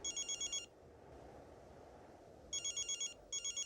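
A telephone rings in bursts of rapid electronic trills, one burst, a pause, then two more, faint against a low background murmur.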